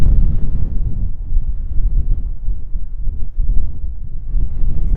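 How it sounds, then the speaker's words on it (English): Strong wind at Monument Valley buffets the microphone in a continuous low, gusty rumble, with no voices. "It is windy here"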